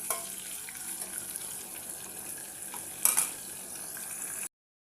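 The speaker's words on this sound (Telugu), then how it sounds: "ఇప్పుడు మనము ఇవి లైట్ బ్రౌన్ కలర్ వచ్చేంత వరకు ఫ్రై చేసుకోండి" Onions and green chillies frying in oil in a pan, a steady soft hiss of sizzling throughout with a brief louder crackle in the middle, then cutting off abruptly.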